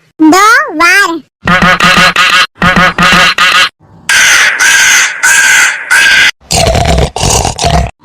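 Loud, harsh crow caws close by, coming in quick bursts of two or three calls with short pauses between them.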